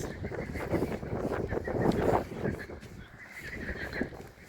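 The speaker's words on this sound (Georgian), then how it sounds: "ცხენა." A horse neighs outdoors in cold weather, mixed with steady background noise and some faint hoof-like knocks; no clear talking.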